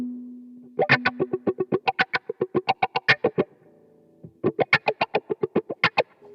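Funky electric guitar played through a Japanese-made Vox V847-C wah pedal, with rhythmic, percussive muted strums sweeping in quacky bursts. Two phrases are separated by a brief sustained note, and the playing is loud and alone.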